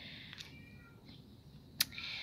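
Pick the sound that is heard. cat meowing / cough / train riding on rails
cat meowing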